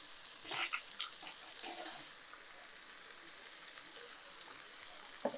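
Faint, steady sizzling of chicken frying in a pan with tomato and ginger-garlic paste, with a few soft clinks and stirring sounds, no voices.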